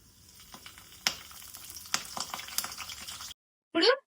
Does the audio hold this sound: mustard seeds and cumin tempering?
yes